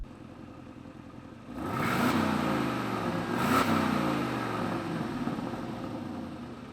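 A 2021 Aston Martin DBX engine starts with a burst, settles into a steady idle, then gets a brief rev that swells and drops back to a loud, continuous hum.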